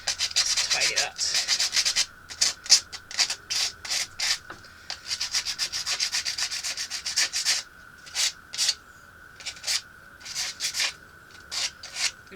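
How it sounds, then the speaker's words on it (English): Sandpaper rubs back and forth over laminate edges in short, rapid, rhythmic strokes with brief pauses, close and clear, no speech. "We're going to take that off with a little bit of sandpaper just to neaten it up."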